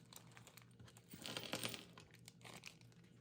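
A plastic packet holding a dome security camera is crinkled and torn open up close, with a burst of crackling rustle in the middle and quieter crinkles before and after.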